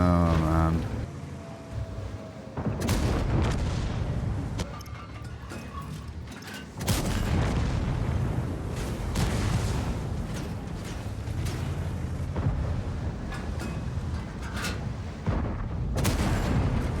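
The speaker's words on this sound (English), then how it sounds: "Why are you shooting early?" Gunfire and heavy cannon blasts in a tank video game, a series of loud sharp booming shots at irregular intervals over a constant rumbling engine and battle noise.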